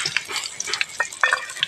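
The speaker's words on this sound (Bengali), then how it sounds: "এখন পেঁয়াজ কুচি দিয়ে দেবো।" Chopped onion dropped into hot oil with cumin seeds, a crackling sizzle close up with quick, spitting pops and stirring clatter throughout.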